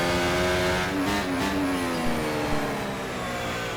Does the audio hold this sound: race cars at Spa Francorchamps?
yes